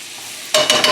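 Finely minced garlic hits a hot pan and bursts into a loud, close sizzle midway through, crackling steadily with stirring after a quiet start.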